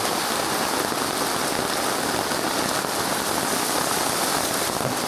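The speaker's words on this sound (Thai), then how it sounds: "ฝนตกเรียบร้อยครับเป็นการทดสอบเต็นท์ไปในตัว" Steady, dense rain patters without a break on a canvas tent at a rainy-season campsite, a close, even hiss with no voices.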